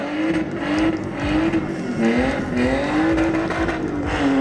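A drift car performs at the Chambley drag power show, its engine howling and wavering continuously with tire squeal, loud and sustained with crowd noise beneath.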